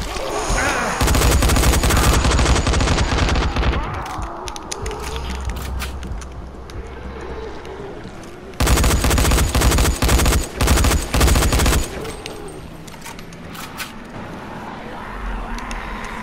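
Bursts of rapid space-gun fire in Dying Light, loud and dense for about three seconds, then rumbling game ambience, then a second heavy barrage before fading to background noise.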